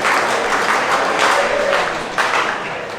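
Loud, steady applause from guests at a retirement party for a judge fills the room as a deacon is welcomed to the stage, continuous dense clapping tapering slightly toward the end.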